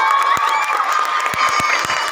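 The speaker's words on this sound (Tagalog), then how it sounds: "pwede po ba akong mamanimos ng isang malakas na palakpakan?" A beauty contest audience roars with cheering and applause, a dense sustained crowd noise with shouts and clapping filling the room, loud and continuous throughout.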